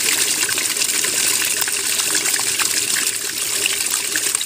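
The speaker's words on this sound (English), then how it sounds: "There goes the new pump, dispensing the water at quite a good flow rate down into the drain there." Water from a new washing machine drain pump gushes at a strong, steady flow down into an off-grid drain, a continuous close splashing rush with no voices.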